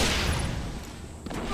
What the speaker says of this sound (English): After that grenade.